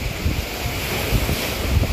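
Strong gusting wind roars across an open microphone during heavy rain, with steady broadband rumble and buffeting low thumps throughout, loud and close, no talk.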